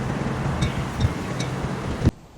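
Strong wind blowing outdoors at the Zhunan brewery in Taiwan, a loud continuous rumbling buffet across the microphone with a few sharper gusts, cutting off abruptly at the end.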